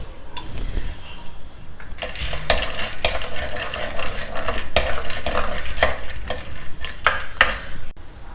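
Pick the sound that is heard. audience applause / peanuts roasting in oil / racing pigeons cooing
peanuts roasting in oil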